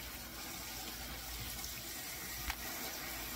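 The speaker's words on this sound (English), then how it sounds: "just dump it into this, fill it up with cold water" Cold tap water gushes steadily into a container to rinse corn kernels for pressure canning, making an even rushing hiss at moderate level with no talk.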